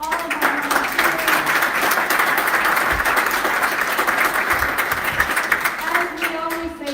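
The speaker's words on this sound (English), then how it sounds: "Rousing round of applause for all of our volunteers." A church congregation claps for the volunteers at a service, a full, steady round of applause lasting several seconds with some voices mixed in before it tapers off.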